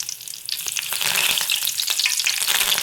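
Curry leaves dropped into hot oil crackle and spit close up, a dense, loud sizzle with rapid popping that swells after a brief quieter start, no speech.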